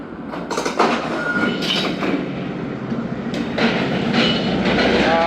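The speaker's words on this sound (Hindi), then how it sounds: "9:55 पर दोस्तों ट्रेन इंटर हो रही है 6012 AG30 के साथ" The Khyber Mail train rolls into a station with its 6012 AG30 locomotive, a loud steady rumble of wheels on track with rhythmic clickety-clack and faint squeals, close by and continuous without talk.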